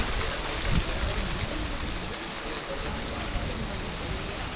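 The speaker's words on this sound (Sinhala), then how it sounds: "ඉතින් මේ තියෙන්නේ පළවෙනි ඇල්ලනේ." The first of the seven Kotaganga waterfalls in the Knuckles Range near Rangala roars as a steady, broad rush of falling water, loud and continuous throughout.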